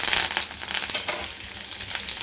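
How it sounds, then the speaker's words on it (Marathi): Curry leaves crackle in hot oil with mustard seeds for tempering, a dense close sizzle full of rapid popping spatters that continues loudly throughout. "कढीपत्ताही आपला छान तडतडायला लागला"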